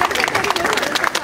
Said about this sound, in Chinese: 再给他一点热烈的掌声